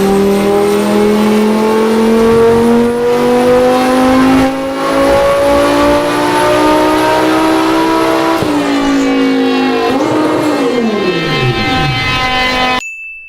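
A Lamborghini Gallardo built for about 1001 horsepower roars through a hard acceleration run, its engine pitch climbing steadily through the gears, briefly dropping at a shift, then surging again, very loud and close throughout.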